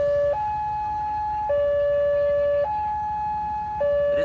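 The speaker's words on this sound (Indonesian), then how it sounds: "Sirine sudah dibunyikan ya." A new WANTECH railway crossing gate siren under test, a loud two-tone electronic wail alternating low and high pitches in slow steady steps, heard alone.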